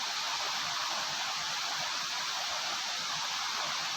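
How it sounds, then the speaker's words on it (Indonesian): Continuous broadband rush of the second waterfall at Granjangan, even and unbroken, heard alone without talk. "Nah, seperti ini air terjun yang kedua."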